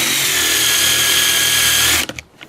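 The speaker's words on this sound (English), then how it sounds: "So I'm just going to countersink these holes." A power drill with a countersink bit cuts screw holes in wood for DIY car ramps, whirring steadily and loudly for about two seconds before stopping abruptly.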